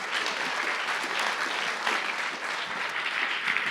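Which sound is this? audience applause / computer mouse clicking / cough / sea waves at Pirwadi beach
audience applause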